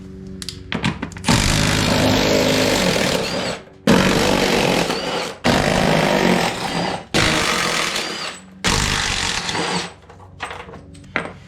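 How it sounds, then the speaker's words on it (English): An impact gun with a 15 mm socket on a 3/8 drive rattles out bolts on a John Deere 1025R/1023E tractor during a diverter valve install, five loud, harsh bursts of about two seconds each separated by brief pauses. "I'm gonna be using a 15 millimeter 3/8 drive on my impact gun"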